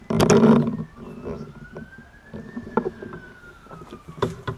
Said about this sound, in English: You notice there's a lot of sirens in my videos.